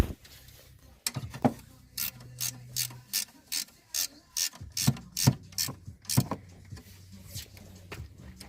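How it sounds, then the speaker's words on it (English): A ratchet tightens the alternator nuts and bolt on a 1987 Oldsmobile Cutlass Supreme with a 307 engine, producing a close, regular series of about a dozen sharp clicking bursts with brief gaps between strokes. "Then tighten up your 13mm nut, 13mm bolt, and 15mm nut."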